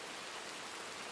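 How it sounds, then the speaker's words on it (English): Steady, even hiss of heavy rainfall in Red Dead Redemption 2, continuous and uniform with no voices, like a downpour heard close around. "It's very rainy today."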